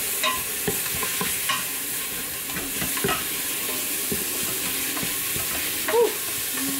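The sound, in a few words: stirring onions and spices sizzling in an Instant Pot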